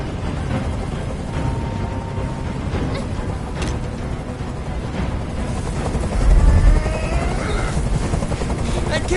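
A hovering helicopter in the video game Detroit: Become Human, a loud, steady rotor thrum close by with a deep rumble that swells briefly, while a voice talks over it.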